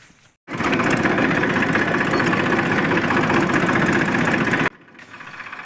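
A tractor engine runs in rural fields after rain, a loud, steady chugging idle that starts abruptly and cuts off near the end, with no talking over it.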